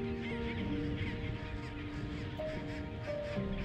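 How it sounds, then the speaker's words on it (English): A dense chorus of honking, braying calls from a chinstrap penguin breeding colony in the South Sandwich Islands overlaps continuously, a large colony sounding close and loud. "hardy chinstrap penguins also form immense breeding colonies"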